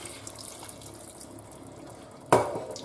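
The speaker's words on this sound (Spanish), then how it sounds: "Pues le voy a echar una poquita de agua." Quiet kitchen background gives way to a sudden splash as water is poured into a pan of garlic pork loin, then a bright sizzling hiss that carries on to the end.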